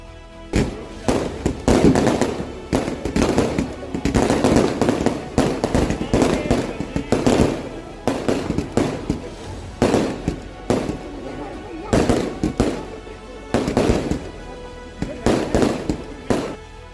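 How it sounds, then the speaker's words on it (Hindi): Fireworks boom and crackle in repeated loud bursts over Haridwar, India, with a crowd murmuring underneath between the blasts. "थोड़ी ही देर में आसमान भी पटाखों की खूबसूरती से भर गया।"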